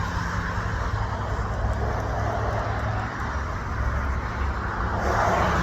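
Steady road traffic on a street near a crossroads in Siler City, cars and heavier vehicles rolling past in a continuous broadband wash, fairly loud and close, with no talking.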